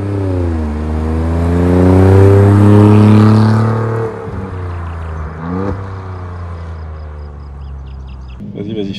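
An Alfa Romeo Giulia Quadrifoglio engine revs up loudly with a deep throaty roar, rising in pitch then dropping back to a lower idle-like rumble.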